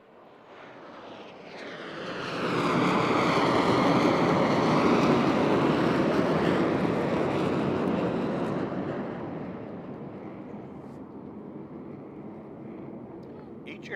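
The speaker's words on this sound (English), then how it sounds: "Each aircraft is now accelerating to 500 miles per hour." Jet aircraft at a beach airshow roar past the crowd as they accelerate to about 500 mph, a broad loud rushing swell that peaks mid-clip and fades slowly, with surf and crowd murmur beneath.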